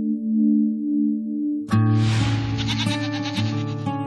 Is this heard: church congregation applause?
no